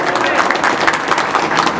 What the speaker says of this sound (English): Give yourselves a huge round of applause for all that.